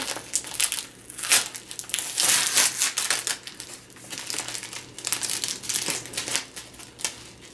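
Wrapping paper on a gift package crinkles and tears continuously up close as it is pulled open, with irregular crackling bursts and no talking.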